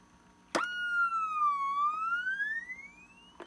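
A CB radio Tweety Bird roger beep plays one long chirping electronic tone that swoops down and rises back up over about three seconds. It opens with a sharp click and ends with another click, and no voices are heard.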